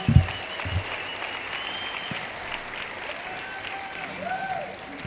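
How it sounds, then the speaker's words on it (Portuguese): A church congregation applauds during a Sunday morning service, a steady, moderately distant wash of clapping that holds evenly for several seconds after a brief louder burst at the start. "Um forte aplauso a cada um deles"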